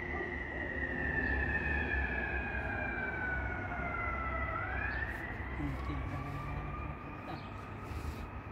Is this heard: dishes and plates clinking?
no